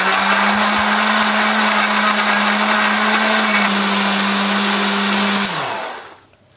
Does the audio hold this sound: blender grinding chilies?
yes